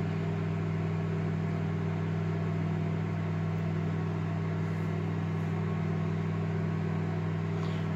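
A microwave oven running while heating soap, a steady close mechanical hum with a strong low drone and even fan noise throughout, unbroken and with no talking.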